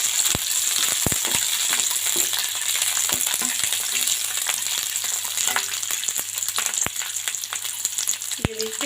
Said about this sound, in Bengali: এখন আমি গরম তেলে সবজিগুলোকে ভালো করে ভেজে নেব।